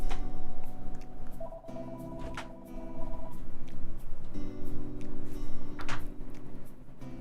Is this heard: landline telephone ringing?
yes